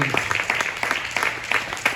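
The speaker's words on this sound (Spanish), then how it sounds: "Dele ofrenda de palmas al Señor." Church congregation clapping together as an offering of praise to the Lord during a Spanish-language service, a dense, steady burst of many hands filling the room with close, bright claps.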